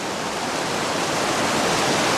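A strong, fast, ice-cold mountain stream on the Pacific Crest Trail near Mount Whitney, a loud, steady roar of rushing water with no other sounds.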